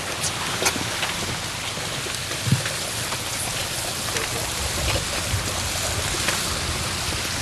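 Water rushing through a fish ladder at Camp Sherman, a steady broadband hiss and splash of flowing water with scattered droplet sounds, moderately quiet and continuous, with brief voices nearby.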